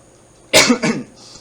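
One sharp, loud cough bursts out close up, followed by a quieter second cough, then near silence.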